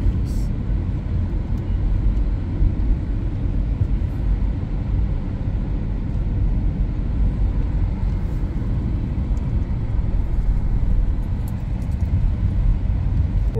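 Steady, dense road traffic on a crowded local city street, a continuous low rumble of engines and tires with faint higher noise on top and no distinct horns or pauses.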